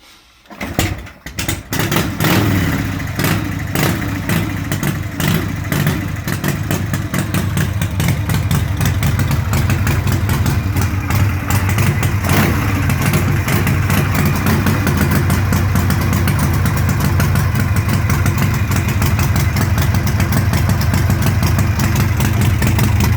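A Harley-Davidson Pan Shovelhead chopper, a barn find, catches after a kick start and settles into a loud, steady, close idle with a deep lumpy rumble, with no talk over it.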